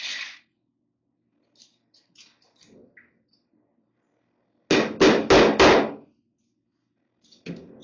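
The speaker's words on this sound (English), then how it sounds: "staple doesn't work, a hammer does." Four quick, sharp hammer blows land in a rapid row, driving upholstery staples into a seat, preceded by a few faint taps and clicks and followed by one more strike.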